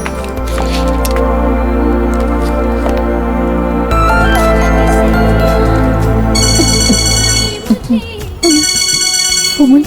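A mobile phone rings for an incoming call in a dramatic film scene, its loud, bright electronic melody repeating continuously and changing pattern partway through, with no voices over it.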